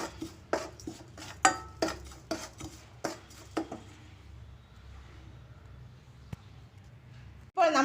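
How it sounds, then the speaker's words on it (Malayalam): A spoon mixes roasted spices into poha chivda in a bowl, with a run of sharp clinks and scrapes close by for a few seconds that then thin out into quieter stirring. "നമ്മൾ ഉണ്ടാക്കി വെച്ചിരുന്ന ആ അവലിലേക്ക് നമുക്കത് ഇട്ട് കൊടുത്ത് മിക്സ് ചെയ്യാം"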